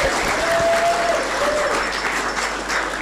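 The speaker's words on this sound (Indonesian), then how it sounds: "Tepuk tangan semuanya." Students at SMA Negeri 3 Purworejo's 2022 Maulid and group prayer event break into sustained, full-room applause. The dense, even clapping continues throughout with faint tonal sounds over it and no speech.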